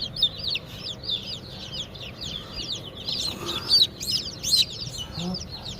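Many small chicks chirp continuously, a busy overlapping cheeping flock close by, with faint rustling underneath and no talking.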